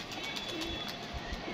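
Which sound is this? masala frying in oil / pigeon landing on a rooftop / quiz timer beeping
pigeon landing on a rooftop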